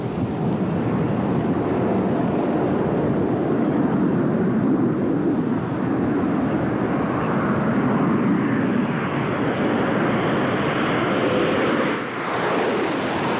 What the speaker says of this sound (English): let's listen in as the shuttle comes down to the shuttle landing facility here at the Kennedy Space Center